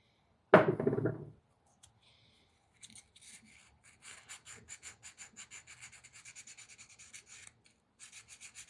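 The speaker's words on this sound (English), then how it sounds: "Some emery cloth and some WD-40 just to give it a little bit of lubricant." Emery cloth around 600 grit, lubricated with WD-40, rubs back and forth on a metal part of a Craftsman 5.0hp two-stroke snowblower, making close, quiet rhythmic rasping strokes in steady bursts after a single sharp knock.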